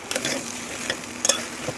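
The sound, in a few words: okra frying with tomato in a pan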